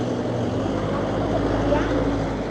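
A motorbike passing on a street in Sapa, Vietnam at night, its engine a steady low drone and hum that stays even and fairly close across the whole stretch.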